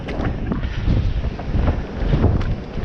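Strong storm winds of Storm Eunice, around 80 mph, batter a farm and buffet the microphone in loud, continuous low gusts that swell and ease, with no speech.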